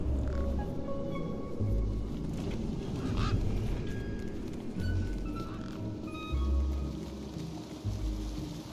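A video game bird gives short honking, quacking cries, repeated at irregular moments over a low rumbling game backdrop, moderately faint.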